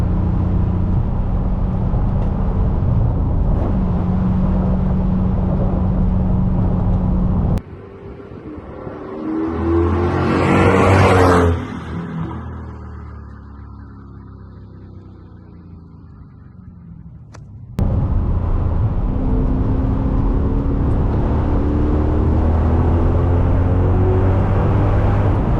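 A 2007 Mercedes-Benz CLK63 AMG Cabriolet with an M156 V8 and 722.9 gearbox, heard from inside while driving: a steady engine drone, then a revving rise and fall as it downshifts, then the drone again.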